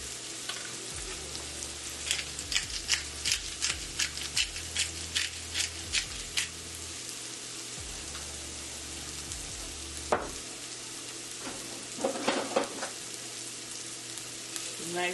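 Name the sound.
stirring shakshuka in a frying pan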